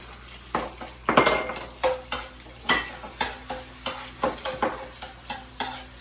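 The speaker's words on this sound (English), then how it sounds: "And then you scramble your egg." Egg in a dash of olive oil being scrambled in a pan, with a soft steady sizzle under repeated scraping and clinking strokes of a utensil against the pan at an irregular rhythm.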